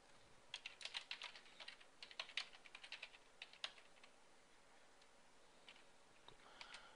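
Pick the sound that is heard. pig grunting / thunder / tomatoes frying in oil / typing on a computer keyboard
typing on a computer keyboard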